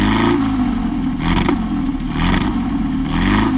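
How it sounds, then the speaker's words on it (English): A Porsche 550 Spyder's all-aluminum engine, paired with a four-speed manual transaxle, revs loudly and close by, rising and falling in several sharp bursts over a throaty mid-range drone. "The sound of the Spyder is unmistakable."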